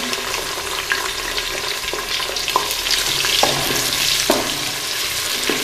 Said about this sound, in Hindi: अब मैं इसमें प्याज शामिल कर दूँगी।